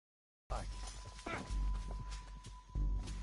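Horse hooves clip-clopping with a brief whinny in the Red Dead Redemption 2 video game, the steady trot starting abruptly and running over low rumbling game ambience with a constant tone.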